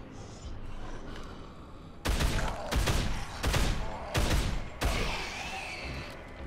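Gunfire in the video game Dead Island: four loud, sharp bursts of shots spaced about a second apart over a low game backdrop.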